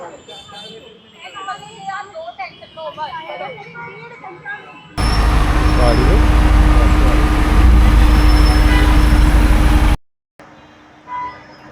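Mumbai local train at night, a loud broadband rumble and rush of the carriage running on the rails for several seconds, preceded by quieter station ambience with talk and followed by a sudden drop to near silence.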